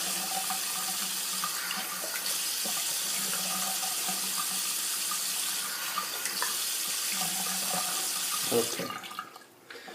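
Steady running water from a bathroom tap splashes into a sink as a face is rinsed after a shave with a Futur safety razor, continuous and close, fading out near the end with a brief spoken word.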